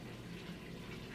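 Water pours in a steady, even rush, filling a container nearby at moderate volume with no pauses and no talking.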